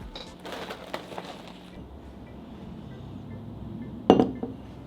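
Chocolate pieces tipped into a bowl of fruity popcorn and stirred, with light scattered clattering and rustling early on, then a lull and one sharp glassy clink near the end, no talking.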